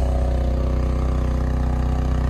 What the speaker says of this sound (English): Got a nice sounding exhaust as well, which is pretty cool.